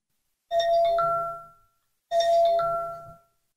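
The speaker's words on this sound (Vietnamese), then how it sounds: "Tiếng chuông cửa reo vang" A two-tone electronic doorbell chime rings twice, each ding-dong clear and close, with silence before, between and after.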